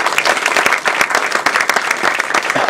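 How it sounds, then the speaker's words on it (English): An audience at a Toastmasters district contest applauds, a loud, close, continuous patter of many hands clapping throughout the short stretch. "Give our contest master a round of applause."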